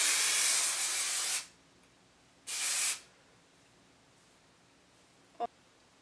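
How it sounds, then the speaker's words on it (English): Two bursts of aerosol hair texture spray hiss, a long one followed by a shorter one, then quiet with a small click. "I'm gonna grab my texture spray again"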